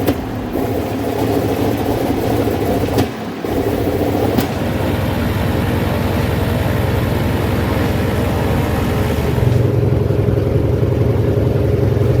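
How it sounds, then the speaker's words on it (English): A Soviet Antonov An-2 biplane's radial engine roars steadily and loudly at close range after starting up, with a brief dip partway through, no talking. "This is the moment the AN2 Elena comes alive, a sound that's more than an engine roar."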